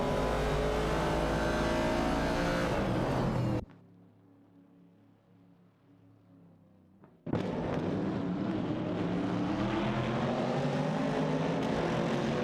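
Race cars, among them a Mercury Cougar and a Dodge Challenger, roar loudly in an AI racing video game; engine noise drops abruptly to a muffled hum for a few seconds, then bursts back at full volume.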